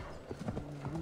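Steady clip-clop of horse hooves in Assassin's Creed Valhalla on PS5, a continuous trotting rhythm over a dense game background of ambient sound and low rumble.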